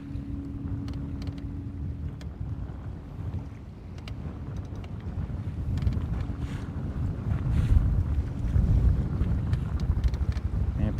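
Wind rumbles and buffets the microphone on a fishing boat out on Lake Guntersville, a continuous low roar that builds in strength toward the end.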